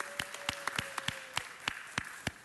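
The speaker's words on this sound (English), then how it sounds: "let's give these heroes a big round of applause" A city council chamber audience gives a round of applause for local heroes, sharp distinct claps from a few nearby people in an irregular, sparse rhythm, loud and clear with no talk.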